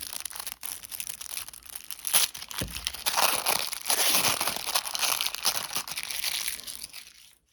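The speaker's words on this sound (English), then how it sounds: "Let me go ahead and rip these cards open." Crinkly foil wrappers of Prizm Monopoly card packs being torn and crumpled open at a tabletop, a continuous close rustling with sharper rips and a soft thump, no speech.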